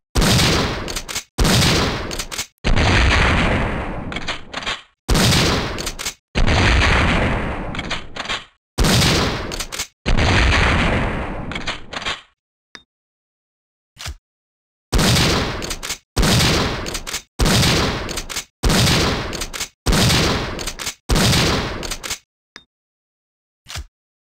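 A Benelli M3S shotgun loaded with enhanced shells fires in Resident Evil 3 with about a dozen loud, close booming blasts. They come in irregular runs separated by short silent gaps, and there is no talking.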